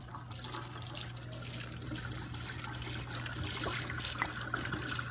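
Whiskey, about half a bottle, poured over a 50-day dry-aged boneless ribeye steak, giving a steady, faint liquid trickle and splash that runs on without a break, close by and with no voices.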